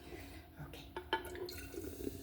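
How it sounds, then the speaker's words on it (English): A homemade detox drink is poured into a small spouted container, a faint trickling and splashing of liquid with a couple of soft clinks, low and close. "If I could pour it in my little thing that got a spout instead of me trying to pour it into the cup."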